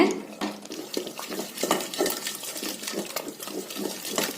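Cooked wild greens and lentils being mashed in a pot, a steady run of wet squelching, scraping and clinking strokes in a quick repeating rhythm, close and fairly loud with no talking.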